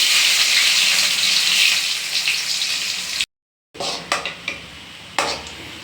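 Crushed garlic and shallots hit hot oil with fennel seeds in a loud, bright sizzle. After a short silence, a few clattering stirs and scrapes of a spoon against the pan follow over a softer frying hiss.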